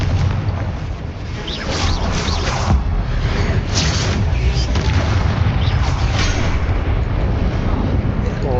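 Booming magical explosion spells in the Hogwarts Legacy video game, a dense, continuous roar of blasts and rumbling impacts with bursts layered over one another throughout, loud and sustained.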